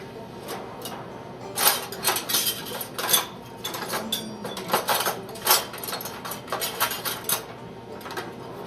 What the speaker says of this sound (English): Go ahead and mix that up in there